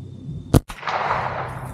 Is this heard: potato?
no